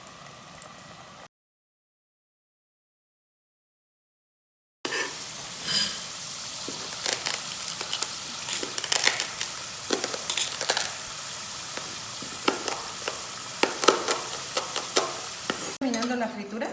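Potato batonnet chips fry in hot oil with a steady, close sizzle and crackle, occasional stirring clinks, and light bubbling after a brief silent gap.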